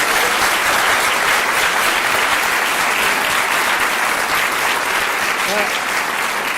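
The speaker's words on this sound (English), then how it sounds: "Ladies and gentlemen, applaud yourselves in the Portobello Learning Festival." Loud, sustained applause from a large audience at a keynote speech during the Portobello Learning Festival, steady dense clapping that fills the whole stretch without letting up.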